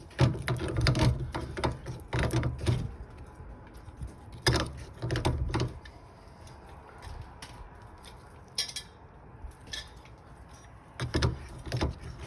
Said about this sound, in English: You loosen off your nut.